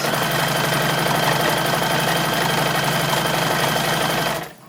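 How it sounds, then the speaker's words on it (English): A sewing machine stitching down the top edge of a pocket on a 1910s–1920s style toddler summer dress, running in a fast, steady, rhythmic whir close by before stopping at the end. "Starting with the pockets, I'm just sewing down that top bit."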